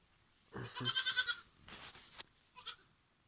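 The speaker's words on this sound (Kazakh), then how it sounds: "Осы, мынау біздің беспородисті ешкі." A mixed-breed goat bleats close by in a quick wavering burst, then gives a shorter second call and a faint brief cry after it, with quiet outdoor air between the calls.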